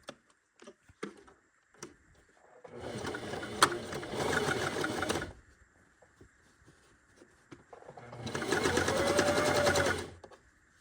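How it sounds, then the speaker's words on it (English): A sewing machine top stitching the edge of a reusable fabric grocery bag at a stitch length of 3, running in two close bursts of rapid mechanical whirring a few seconds long, separated by quiet handling clicks. "Top stitch about 1/4 to 1/8 of an inch away from the top edge of the bag."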